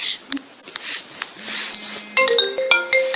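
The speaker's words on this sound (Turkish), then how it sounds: "Telefon çaldı lan." A phone ringtone starts partway through, a bright repeating electronic melody under a voice in a gaming session.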